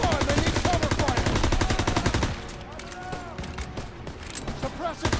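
Gunfire and machine-gun bursts from Call of Duty: WWII rattle loudly and rapidly for about two seconds, then give way to scattered shots and battle noise.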